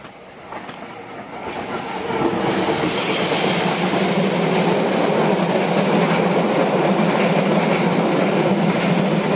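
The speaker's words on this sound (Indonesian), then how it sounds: "sudah terdengar ya suara gemuruh dari keretanya dan juga gesekan rel." A train passing near Lebak Jero rumbles in, swelling over the first two seconds into a loud, steady roar of wheels grinding and clattering on the rails that continues to the end.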